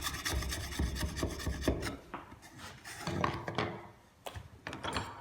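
A file rasps back and forth in the groove of a wooden spatula, making close, repeated scratchy strokes in an uneven rhythm with brief pauses between passes.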